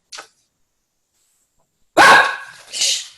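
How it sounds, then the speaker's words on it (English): A dog barks loudly nearby: one short, faint yip at the start, then after a pause a strong bark followed by a second bark, with no one talking. "Every time I get on these crops, my dog seems to think he should bark."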